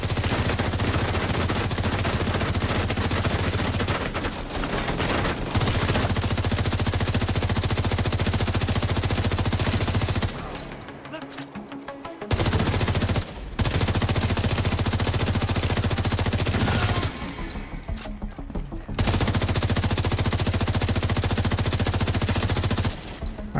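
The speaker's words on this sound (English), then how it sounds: "this is a lot of cross frickin' shooting" Heavy crossfire in the shooter video game The Division, set in Brooklyn: sustained, loud automatic gunfire rattling almost continuously, broken by a few short lulls before the shooting resumes.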